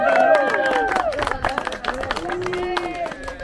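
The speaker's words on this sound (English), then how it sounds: "a round of applause for team number two" A group claps and cheers for a team at a holiday park activity, lively close applause mixed with voices and chatter.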